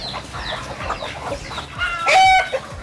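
Chickens cluck and chatter nearby, ending in a louder, drawn-out squawk from one bird; no one speaks.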